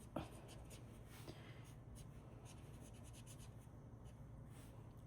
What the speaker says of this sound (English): So I'll just write.